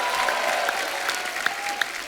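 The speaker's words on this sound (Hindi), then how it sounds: "आप सबकी जोरदार तालियों के साथ प्लीज वेलकम डॉक्टर चंद्र प्रकाश द्विवेदी साहब।" A comedy show studio audience applauds as a film director is welcomed onstage, continuous clapping with a few sharper claps standing out and faint background sounds underneath.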